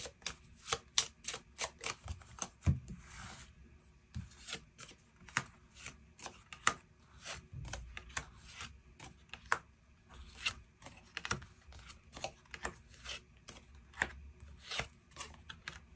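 Tarot cards shuffled and drawn one by one, a quick run of crisp close riffling clicks and flicks with short pauses, no talking.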